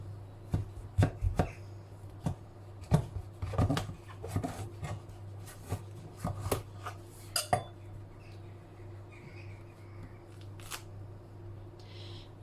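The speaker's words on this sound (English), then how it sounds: "now I'm going to cut this in half" A kitchen knife slices a courgette in half on a board, giving scattered close knocks and scrapes separated by quieter pauses, with no speech.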